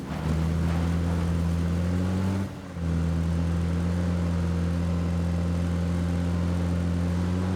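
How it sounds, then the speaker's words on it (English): A steady motorcycle engine drone in the game PUBG with a strong low hum runs throughout, briefly dipping near the middle before resuming at an even level. "I hear the motorcycle going"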